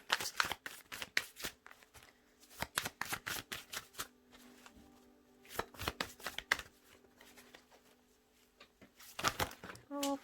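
A deck of tarot cards is shuffled in several quick riffling bursts, close and crisp, with brief pauses between rounds and no talking.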